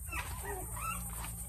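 Young Alabai and Belgian Malinois cross puppies give faint, thin whimpers and small yips over a low steady hum, with no voices.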